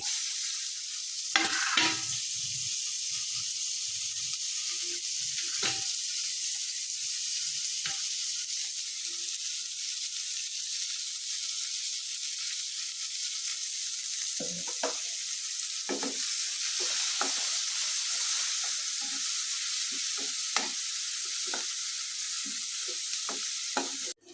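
Onions sizzle loudly and steadily in a hot pan for Bengali egg bhuna, with occasional scrapes and clinks of stirring cutting through the constant hiss, close and alone.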